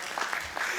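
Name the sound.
audience applause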